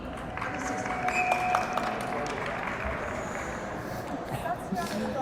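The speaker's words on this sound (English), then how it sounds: "Crowd goes crazy." Crowd at a varsity high school hockey game between Kent Denver and Pine Creek reacts to a goal, a steady roar of cheering and clapping filling the rink, with an announcer's voice over the noise.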